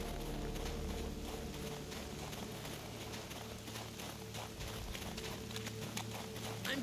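Horse hooves clip-clopping in The Witcher 3 during the Lord of Undvik quest, a steady rhythmic trot set low in a constant wash of ambient game sound.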